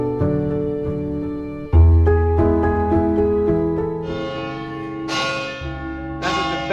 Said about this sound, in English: The bell is ringing very, very loud, and Leslie can't bear it.